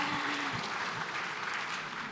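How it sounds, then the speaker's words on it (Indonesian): Audience applause in an indoor hall after a panel on copyright and AI, steady broadband clapping filling the whole stretch at moderate level, with a faint voice briefly underneath at the start. "tepuk tangan dong teman-teman untuk 3 narasumber kita"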